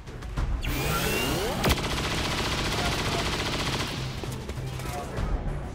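A saturation fire cannon barrage in XCOM 2 roars out as a dense, sustained volley of rapid gunfire and booming impacts, loud and continuous for several seconds before tapering slightly.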